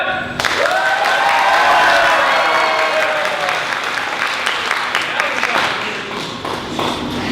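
A live show audience applauds to vote for an ancient sideshow stunt, a loud burst of clapping that swells early, then fades slowly with cheers and voices mixed in.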